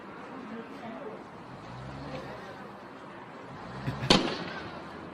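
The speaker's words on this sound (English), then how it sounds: "We hear some kind of a gunshot again." One sharp crack rings out late against a low murmur of background noise and faint voices, like a distant gunshot, in Ukraine war footage.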